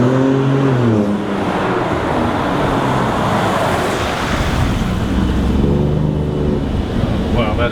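A 2017 Ford F-150 Raptor, freshly dyno tuned, pulls hard on a test drive, its engine note climbing in loud rising sweeps over steady road roar, easing briefly midway before building again.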